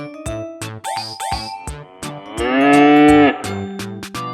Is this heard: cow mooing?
yes